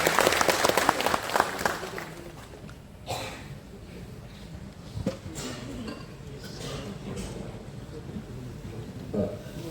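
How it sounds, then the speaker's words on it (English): An audience claps at a talk on Sikh history, a dense burst of applause at the start that thins into scattered claps and crowd murmur. "I request audience to once again give a big clap for his enlightening"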